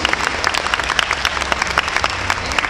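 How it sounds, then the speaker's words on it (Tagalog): Audience applause at the Mister Tourism World 2016 pageant during the formal wear segment, a steady dense patter of many hands clapping throughout, loud and continuous with no voices over it. "Round of applause, please."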